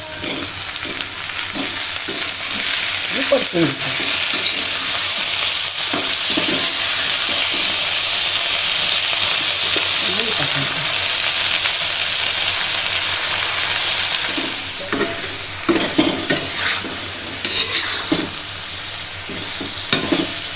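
Gathiya sizzle and fry steadily in a hot pan while being stirred, with scraping and clattering strokes over a continuous loud hiss.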